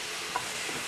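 A Jamaican dinner with pimento seed and leftover marinade sizzles in a pan as it is stirred, a brief steady hiss with one soft scrape.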